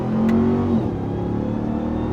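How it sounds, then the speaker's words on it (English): A Dodge Ram TRX Hellcat's 6.2-liter supercharged V8 revs up loud and close, a rising tonal supercharger whine over the engine roar that then settles into a steady idle rumble. "This awesome supercharger whine, this Hellcat engine."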